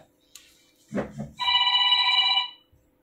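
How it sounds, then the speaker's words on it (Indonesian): A telephone rings once with a bright electronic trill lasting about a second, preceded by faint rustling and a soft thump, in a quiet room with no talking. "Magnus Carlsen atau Hikaru Nakamura kayaknya lagi telepon ya."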